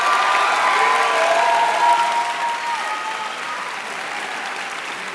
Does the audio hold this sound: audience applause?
yes